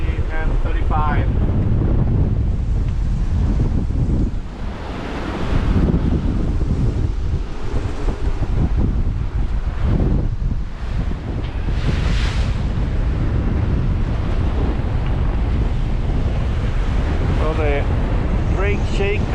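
Strong wind and sea noise aboard the sailboat Sea Wind, crossing the Drake Passage toward Antarctica in winds around 30 to 40 knots, with a steady loud roar of wind and waves throughout the clip.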